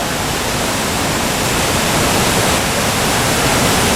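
A waterfall plunging into a deep river gorge in Canada, a loud, steady, broadband rush of falling water heard close and unbroken, with no voices over it.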